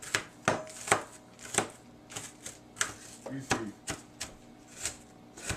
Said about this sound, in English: chopping onions is just a little bit messy, but that is alright.